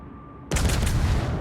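In a naval video game, warship guns fire HE shells as a sudden loud boom that cuts in after a quiet moment and rolls on as a dense, rumbling blast.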